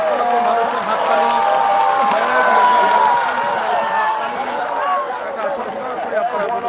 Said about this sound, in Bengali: শেষ দৌড়ে লক্ষ লক্ষ মানুষের হাততালি